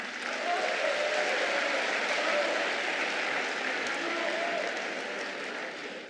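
A large crowd at a political party rally in Yamoussoukro cheers and applauds loudly and without a break, a dense wash of clapping and shouting.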